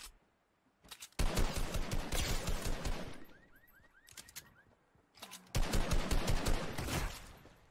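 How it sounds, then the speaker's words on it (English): Rapid automatic gunfire in a multiplayer shooter video game, two long dense bursts of close, loud shots separated by a brief pause. "Someone shooting at me?"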